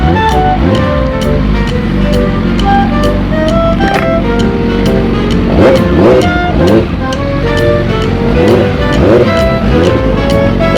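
A Yamaha R6 superbike rumbles through a traffic jam, its engine and the surrounding traffic blending with steady wind roar and repeated throttle pulses, close and loud throughout.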